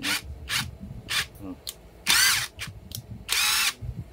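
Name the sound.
impact wrench converted to cordless drill running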